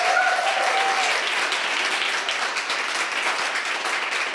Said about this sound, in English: can we give another round of applause for our finalists?